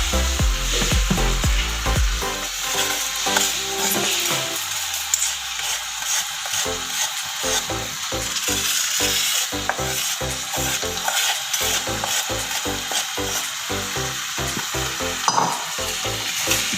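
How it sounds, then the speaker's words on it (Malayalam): A spoon scrapes and stirs chicken curry with pepper powder and garam masala in a pan in a steady, repeated rhythm over a constant sizzle, close and fairly loud, no talking. "ഇതിലേക്ക് നമുക്ക് കുരുമുളക് പൊടി ഗരം മസാലയും ചേർക്കുന്നതായിട്ട് മിക്സ് ചെയ്തെടുക്കാം"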